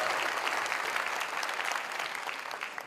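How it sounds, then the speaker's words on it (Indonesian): An audience at a millennial gathering attended by Anies Baswedan gives steady, dense applause for the event organisers, a full hall clapping continuously and loudly throughout. "Kita beri tepuk tangan untuk mereka yang menyiapkan acara."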